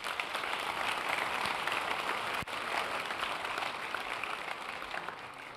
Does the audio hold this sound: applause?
yes